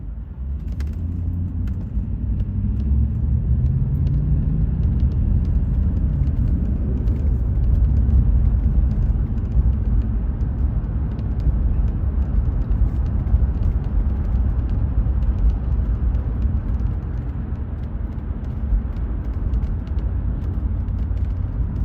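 A 1991 Mercedes 560SEL driving, heard from inside as a steady low engine and road rumble that holds evenly throughout, with no talking.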